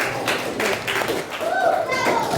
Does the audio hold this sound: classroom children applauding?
yes